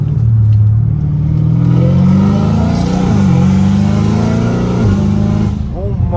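A catless, catback-exhausted Dodge Challenger Hellcat Redeye accelerating with a deep, loud, rising engine roar, broken by a couple of sharp downshift blips, heard from inside the car with a voice talking over it.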